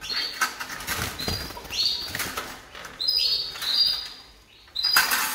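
Bursts of fluttering wingbeats from a bird in an aviary come and go close by, mixed with rustling and a few short high chirps.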